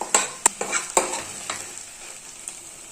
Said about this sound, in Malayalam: ഇനി ഇതിൻ്റെ കൂടെ ഇളക്കി മിക്സ് ചെയ്യുക മൊത്തമായിട്ട്